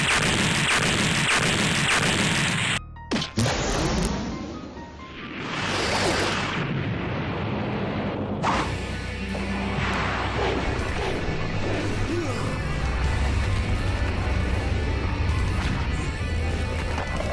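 Heavy animated explosions tear through a fleet in a Frieza versus M. Bison battle, a loud sustained roar of blasts and crashes with sharp bangs, whooshes and a brief lull, continuing dense and close to the end.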